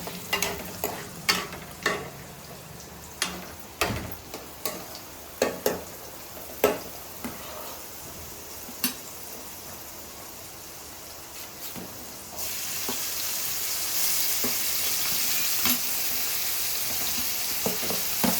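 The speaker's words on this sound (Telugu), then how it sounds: "ఇప్పుడైతే మనం ఉల్లిపాయ పచ్చిమిర్చి వేసేసుకున్నాము" Onions and green chilies frying in oil with drumsticks for an egg and drumstick curry: a steady sizzle with repeated sharp scraping stirs early on, then a louder continuous hiss building for the last few seconds, with no talking.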